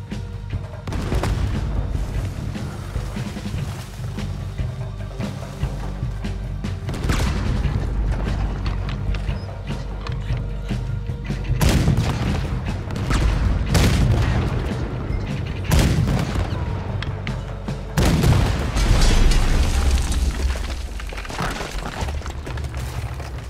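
Heavy booming cannon blasts go off repeatedly over a dense, rumbling battle din in Red Dead Redemption 2, with clanking mechanical noises between the louder bursts.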